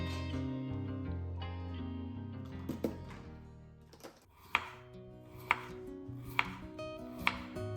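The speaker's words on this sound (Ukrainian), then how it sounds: "нарізати саме ось такими тонесенькими слайсами" A kitchen knife slices potatoes into thin slices, striking the board in a few sharp, evenly spaced chops over soft background music.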